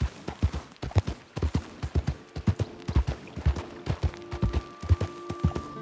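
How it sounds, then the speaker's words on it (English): A horse gallops in the Red Dead Redemption 2 video game, rapid rhythmic hoofbeats thudding steadily and close throughout, with a faint tonal hum entering partway through. "Stop galloping on the spot, please."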